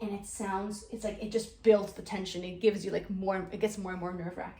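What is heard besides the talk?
None of the usual background noises is heard.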